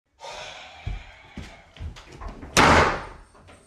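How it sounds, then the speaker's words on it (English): A door slams shut with a loud, sharp bang near the end, following a few softer knocks and rustles over a steady background hum. "Wait, why did the door just close?"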